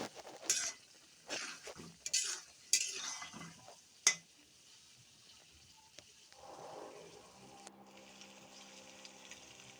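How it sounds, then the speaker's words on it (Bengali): Chicken roast cooked with milk and whole green chillies is stirred in a pan, several sharp utensil scrapes and clinks in quick succession, then a quiet simmering hiss and a faint hum. "আবারও নেড়ে চেড়ে মিশিয়ে নিলাম"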